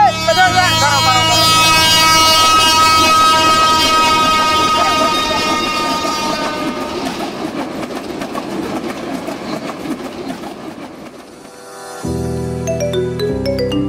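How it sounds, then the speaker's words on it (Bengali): A train approaching with its horn blaring in long sustained tones, the rumble and clatter of the cars filling the scene, followed by a quieter rolling stretch and a further horn blast. "ট্রেন আসতেছে, ট্রেন আসতেছে"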